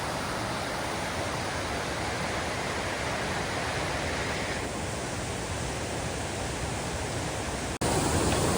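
A glacier-fed river at Mount Rainier, on the Paradise River stretch, pours past in a dense, loud, unbroken roar. It continues without pause, with a brief dropout and a slightly brighter texture near the end.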